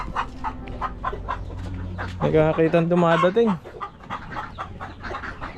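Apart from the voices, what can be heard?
chickens clucking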